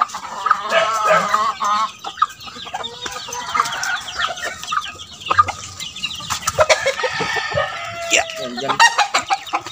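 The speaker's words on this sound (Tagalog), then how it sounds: "Dami rin pala ng labuyo dito." Jungle fowl (labuyo) chickens cluck and crow repeatedly at close range outdoors, several birds overlapping, with people talking quietly in the background.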